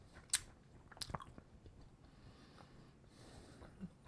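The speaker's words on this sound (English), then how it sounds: "Sorry about chewing the gum." Gum being chewed close to the mic, soft wet smacks and clicks scattered irregularly over a quiet background, with a couple of sharper bites near the start.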